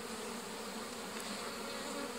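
Honeybees at a hive, a dense, continuous buzzing drone that holds steady and close throughout with no voices.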